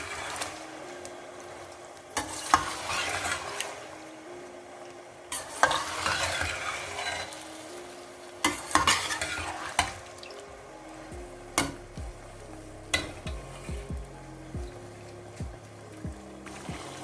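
Chicken frying in a karahi, stirred with metal scrapes and clanks over a steady sizzle, the strokes sharper and more rhythmic toward the end, no talking.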